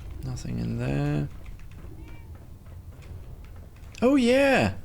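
A cat meows twice inside the video game Fallout 4, with a short call at the start and a longer, louder one near the end, separated by quiet background sound and faint talk.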